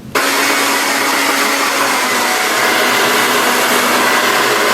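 Hair dryer blowing loudly and steadily at close range while hair is dried over a round barrel brush, switching on abruptly at the start and then roaring on without a break.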